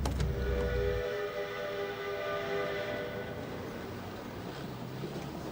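A train at a railway station gives a low rumbling burst at the start, then a sustained whistle-like tone and a faint metallic hum that fade slowly, heard from a moderate distance with no talk.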